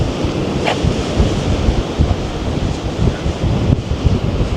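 Rough sea surges against a pier under strong wind, the waves washing in a continuous loud roar with gusty buffeting on the microphone and no voices.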